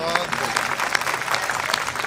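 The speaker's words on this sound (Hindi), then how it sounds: "बजा दो एक बार ताली" A Hindi comedy show audience claps briefly on cue after a sung aarti line, a short burst of applause heard under a talking voice.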